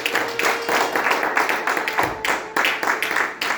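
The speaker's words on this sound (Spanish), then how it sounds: "¿Por qué no le da palmas al Señor Jesucristo?" Church congregation clapping in praise of Jesus Christ during a Spanish-language sermon, a steady run of fairly close handclaps that keeps going for several seconds with background voices mixed in.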